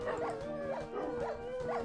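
Dogs in the Minecraft Dogcraft video game give repeated short yips and whimpering barks in a steady rhythm over a continuous tonal background, close and fairly loud.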